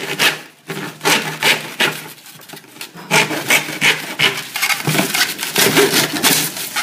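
A length of pipe is cut with a hand saw for a DIY compost bin, giving repeated rasping back-and-forth strokes in an uneven rhythm, close and fairly loud, with no talking.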